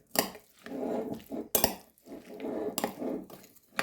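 Spoon scraping and clinking against a bowl while stirring minced meat for cutlets with vinegar, a steady stirring rhythm, close by, with a few sharper knocks between strokes.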